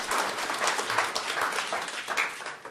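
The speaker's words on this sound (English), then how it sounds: "We can clap for that" Audience at a city council regular meeting in Amarillo claps after a unanimous vote, a steady patter of many hands at moderate distance that holds for a few seconds without talk.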